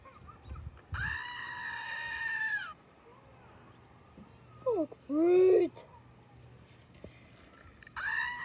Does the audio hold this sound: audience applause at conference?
no